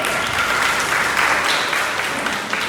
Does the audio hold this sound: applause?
yes